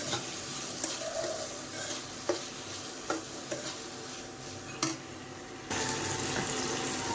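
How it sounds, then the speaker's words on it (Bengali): Spices for pea ghugni frying and being stirred in a pan: a soft sizzle with scraping stirs and clacks of the spatula at irregular intervals, close up, and a louder hiss near the end. "দিয়ে আবারও আমি এইভাবে নাড়াচাড়া করে ভালো করে কষিয়ে নেব।"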